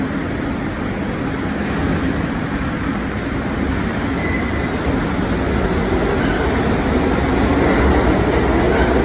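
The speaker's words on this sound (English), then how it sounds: "There's the train." A New York City subway train rumbles steadily into a station, a continuous loud roar of wheels and motor with a faint high squeal, no voices.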